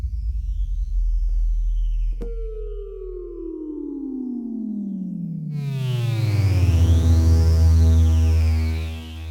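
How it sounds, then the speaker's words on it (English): A synth sine tone glides steadily downward in pitch and settles on a low sustained note, later joined by a brighter wavering layer; no voices. "here's sine tone falling, and it will rest on the note you play down an octave"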